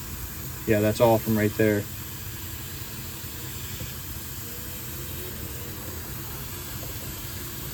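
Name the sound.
air hissing from a plugged solenoid in a claw game animatronic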